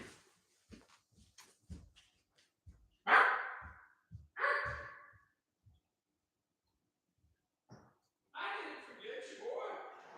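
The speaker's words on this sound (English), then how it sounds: "that's my dog" A freshly groomed dog gives a few short, sharp bark bursts indoors, close and moderately loud, spaced out between quiet moments with soft breathing and small thumps.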